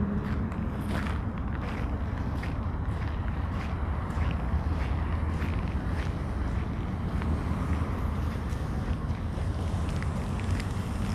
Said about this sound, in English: it's the blowing wind over there all day long.